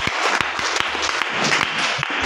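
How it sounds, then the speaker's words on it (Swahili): A church congregation claps at a pastor's welcome meeting in Khwisero, a brief burst of quick, uneven clapping with a few sharper individual claps standing out, close and loud. "Piga makofi."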